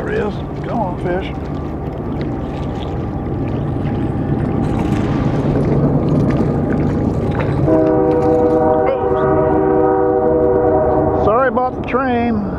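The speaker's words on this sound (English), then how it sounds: "Sorry about the train." A train rumbles past near a fishing spot by the water, then sounds a loud, sustained horn blast before it breaks off, with some voices underneath.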